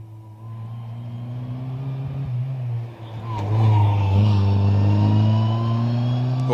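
A race car climbs the Shelsley Walsh hill course, its engine droning steadily and then swelling louder as it accelerates hard. The run is heard from the roadside with no talking.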